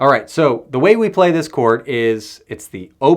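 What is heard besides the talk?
No everyday noise stands out behind the speech.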